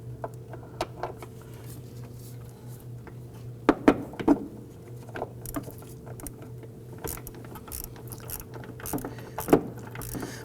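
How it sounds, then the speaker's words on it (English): A 1/4 inch ratchet loosens a nut on a 2008-2011 Ford Focus during brake master cylinder work, giving short bursts of quick clicking amid faint metallic handling noises over a low steady hum. "I did switch over to a 1/4 inch ratchet for the length purposes of the wrench itself"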